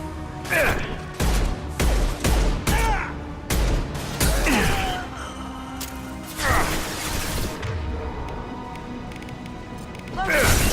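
Gunfire in the video game Mass Effect 2: bursts of shots crack out in quick clusters over the first few seconds, mixed with impacts and battle effects, then sparser blasts, loud and close.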